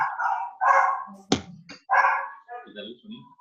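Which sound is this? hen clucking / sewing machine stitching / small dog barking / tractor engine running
small dog barking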